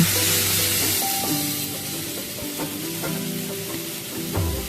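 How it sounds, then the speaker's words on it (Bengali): Chunks of raw mango frying in hot oil for a pickle make a continuous, close sizzle with occasional stirring clanks and scrapes, and no one speaks. "কাঁচা আমগুলো তেলের সাথে একটু ফ্রাই করে নেব।"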